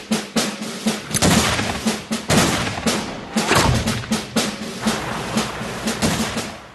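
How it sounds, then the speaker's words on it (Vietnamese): Rapid rifle and gunfire cracks ring out at a marksmanship shooting demonstration for soldiers, a dense, loud series of repeated shots at irregular intervals. "Voroshilov trình diễn cho binh sĩ tài bắn súng chính xác của mình."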